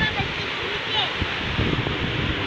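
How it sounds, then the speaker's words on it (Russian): Sea waves breaking below rocky cliffs, a steady rushing surf with wind noise on the microphone, heard from above. "О, сегодня такая волна классная."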